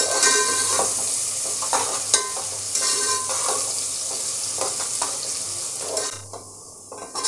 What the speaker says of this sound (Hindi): इसे हम फ्राई कर लेते हैं अच्छे से ब्राउन कलर आने तक